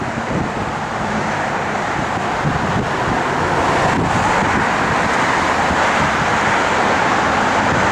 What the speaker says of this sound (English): I just don't like this wind here